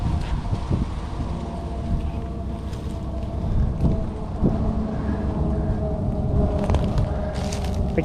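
Corn silage harvest in a cornfield, with a forage cutter working somewhere nearby: a steady low machinery rumble and broadband roar, moderately loud and continuous, with wind buffeting the microphone and no speech.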